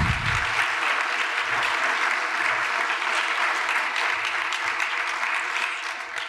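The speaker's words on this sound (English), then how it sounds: "Can you give them a big round of applause, please?" Sustained applause fills a keynote session at a social justice institute think tank, honoring Shelley White and Allison George, a dense, steady wash of many hands clapping that fades slightly near the end.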